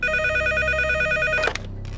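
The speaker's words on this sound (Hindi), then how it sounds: "उसके घर पर फोन लगा, मैं बात करता हूँ।" A telephone rings at a house, a loud steady electronic ring that stops abruptly after about a second and a half, followed by quieter background sound.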